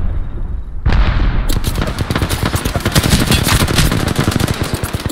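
Rapid automatic gunfire from a PC Apex Legends match erupts after a brief quiet moment, with dense, loud bursts of shots rattling continuously over several seconds.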